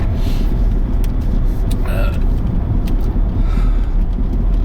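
An older Range Rover L322 rolls along on the road, giving a steady, loud low rumble of engine and road noise from inside the cabin, with a few faint higher sounds on top.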